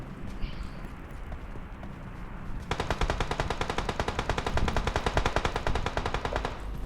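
Rapid automatic gunfire in the PUBG Mobile battle royale game kicks in after a quieter stretch and keeps up a dense, steady volley of loud shots to the end, with faint player talk.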